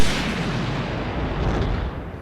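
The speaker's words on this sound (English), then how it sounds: "The chemicals start spilling into the mix, causing a big explosion to happen" A big cartoon explosion from a chemical mixture spilling in a lab in The Powerpuff Girls Movie, a dense sustained roaring blast that fills the whole moment with heavy rumbling noise.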